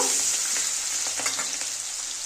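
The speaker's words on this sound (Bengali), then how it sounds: "দেখো বন্ধুরা, পেঁয়াজগুলো ভাজা হয়ে গেছে" Onions and green chillies fry in a pan with a steady hiss and sizzle, broken by the light scrape of stirring, close and with no voices.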